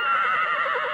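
A horse neighs in a single loud, close whinny with a wavering, trembling pitch, about a second long and heard alone.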